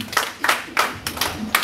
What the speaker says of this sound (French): Applaudissez-moi quand même.